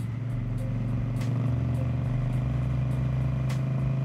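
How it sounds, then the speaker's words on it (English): A motorcycle engine hums steadily at close range, with faint throttle blips and clatter during a rev-matched downshift while riding. No speech is heard. "Gonna rev match a downshift."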